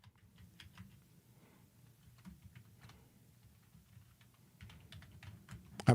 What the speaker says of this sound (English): I'm typing a message.